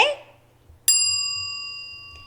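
A bell gives one bright ding as a cue in a Spanish language lesson, and its tone rings out and fades slowly. A softer second tap follows near the end, after a brief voice at the start.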